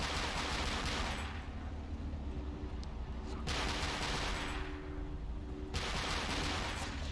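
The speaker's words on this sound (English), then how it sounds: "it looks like we're getting shot at by something. It looks like it's a Panzer III" Gunfire from a Panzer III tank in the video game Forgotten Hope comes as two long, broadband bursts of sustained shooting, fairly faint, with no talk over it.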